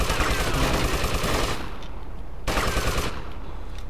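Gunfire from soldiers in an old GTA game, with dense rapid automatic bursts filling the clip, briefly thinning and then resuming, loud and close.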